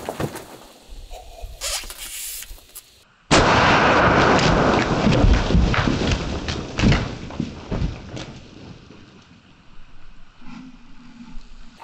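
Rifle fired at close contact, a single sudden loud blast that cuts in sharply and rings out with a long, crackling decay and scattered debris noises.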